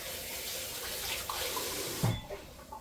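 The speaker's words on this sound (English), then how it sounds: "And let me wash my hands." Hands are washed under a running kitchen tap, a steady nearby splash of water that lasts about two seconds before cutting off with a soft clunk.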